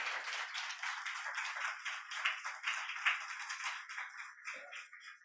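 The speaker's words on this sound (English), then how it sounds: "Yeah, clap." An audience claps to welcome a speaker at a corporate talk, a soft, distant patter of many hands that thins out toward the end.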